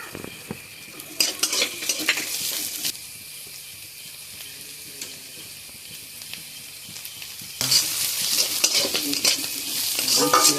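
Chopped onion, garlic and ginger sizzle and fry in a pan while a utensil stirs, steady close sizzling with scraping strokes that grow louder and brighter toward the end.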